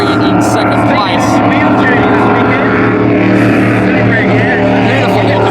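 A powerful offshore superboat engine, around 400 horsepower, roars loudly and steadily, close by on Lake Macquarie during a race, with a commentator talking over it throughout.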